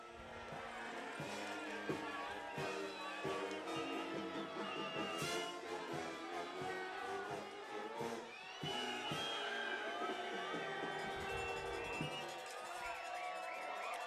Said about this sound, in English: What a loud crowd we have here tonight.